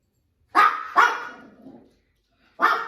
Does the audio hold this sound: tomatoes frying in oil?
no